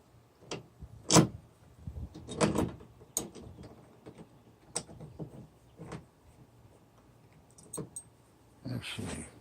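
A door is handled in a series of irregular clicks, knocks and thuds spread over several seconds, some sharp and close, with quiet gaps between them.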